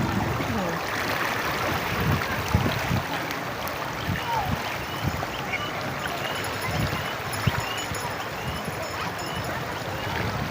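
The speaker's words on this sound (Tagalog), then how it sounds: "Malakas ang agos ng tubig" A strong, fast current of clear river water flows steadily and close by, a dense broadband rush throughout, with a few faint dog-like yips and brief knocks on top.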